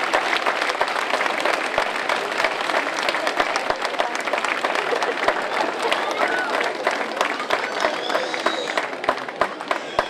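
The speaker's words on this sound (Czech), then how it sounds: "klidně jim zatleskejte, to bude jejich první potlesk na otevřené scéně." An audience claps energetically and steadily for a young folk dance group on an open stage, a dense crowd sound with scattered sharp claps and faint voices.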